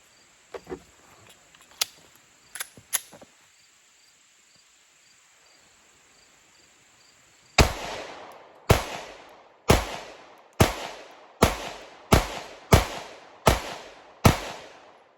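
Sig X-Macro compensated pistol fired outdoors: after a few faint clicks and ticks, ten sharp loud shots ring out in a steady rhythm about one per second, each with a short ringing decay, over faint insect chirping.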